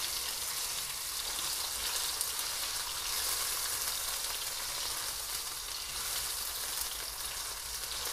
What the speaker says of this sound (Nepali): मैले अघि तोरी फ्राई गरेको भएर तोरी क्र्याकल भएको हो।